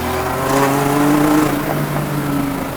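A little Alfa Romeo tuned to about 670 horsepower with carbon bodywork, its engine revving hard under acceleration with a rising tonal whine, loud and close, no voices.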